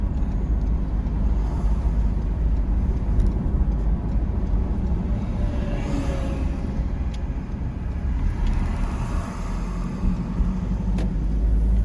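A Ford Ranger rolls slowly into a yard, heard from inside the cab as a continuous low engine and tyre rumble with faint rattles, fairly loud and with no talking.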